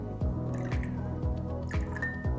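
High pH alkaline water trickles and drips into a glass in a close, steady pour, with a few soft splashy pulses and no voices.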